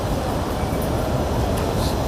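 A train rumbles past close by near Sintra, Portugal, a dense continuous roar of wheels and carriages that holds steady throughout.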